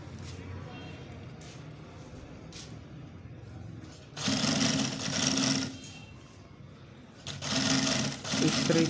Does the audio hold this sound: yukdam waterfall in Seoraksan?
no